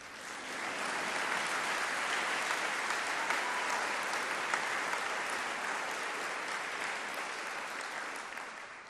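Audience applause at a hometown heroes event fills the whole stretch as a steady, even wash of many hands clapping together.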